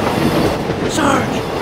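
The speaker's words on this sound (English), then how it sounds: "troop train" A troop train rumbles past loudly and close by, a continuous heavy roar of wheels and cars on the rails.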